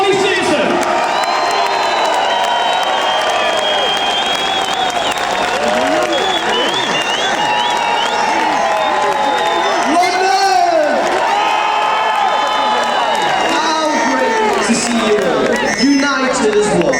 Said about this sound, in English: give this young man a massive, massive cheer, a round of applause